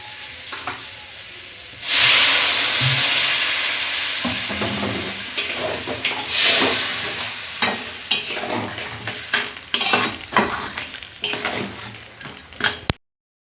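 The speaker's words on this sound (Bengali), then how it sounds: "ঝোল ফুটে উঠেছে" Crab curry gravy with spices heats in a pot, giving a broad steady hiss and bubbling from about two seconds on, with scattered scraping stir and clatter sounds and pot knocks near the end.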